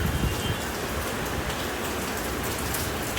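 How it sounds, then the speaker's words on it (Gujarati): Heavy monsoon-style rain drums hard on a tin roof, a loud, dense patter that stays constant from start to finish. "અને વરસાદ તો ખૂબ જ આવી રહ્યો છે, બહુ ધબધબાટી કરે છે"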